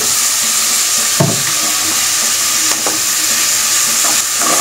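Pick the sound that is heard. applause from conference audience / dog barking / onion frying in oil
onion frying in oil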